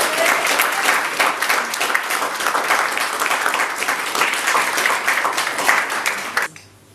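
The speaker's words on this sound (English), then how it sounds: "we'll give them a round of applause" Guests at a wedding ceremony give the newlyweds a round of applause after their kiss, lively close clapping that carries on steadily before cutting off abruptly at the end.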